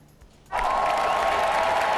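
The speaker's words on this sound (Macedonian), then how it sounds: "Го чекавме аплаузот" An audience bursts into applause on a stage show, starting abruptly after a short quiet moment and holding steady and loud as a dense wash of clapping.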